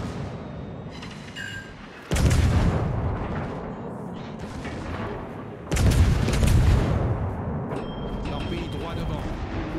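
Heavy booming gunshots from a multiplayer shooter video game ring out in two loud blasts, each trailing off, with a player's voice talking around them.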